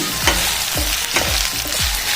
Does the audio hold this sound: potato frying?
yes